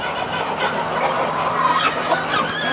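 Plump spent laying hens at the end of their laying period cluck and call in a morning poultry coop, a busy overlapping chorus, steady and fairly close, with no talk over them.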